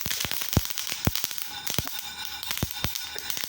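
Whole spices popping and crackling as they dry-roast in a pan over low heat for a cluster bean gravy masala, a rapid irregular run of sharp close snaps with no talk.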